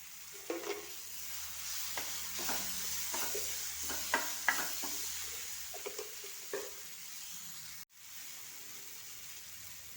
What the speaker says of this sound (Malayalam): ഇതിലേക്ക് ഇപ്പം മുളക് പൊടി മഞ്ഞൾപ്പൊടിയൊക്കെ ഇട്ട് കുരുമുളക് പൊടിയൊക്കെ ഇട്ട് നല്ലപോലെ വഴറ്റിയിട്ടുണ്ട്.